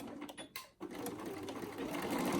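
A sewing machine runs steadily, stitching a quarter-inch seam along the edge of a pleated fabric face mask, with a brief pause early on before the close, continuous motor whir resumes.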